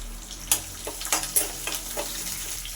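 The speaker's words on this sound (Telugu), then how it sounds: "ఈ ఆనియన్స్ కూడా ఇప్పుడు పోపు దినుసుల్లో వేసుకొని వేయించుకుందాం" Chopped onions frying in oil with tempering spices, a soft steady sizzle broken by several sharp crackles and stirring scrapes, close and fairly quiet, no talking.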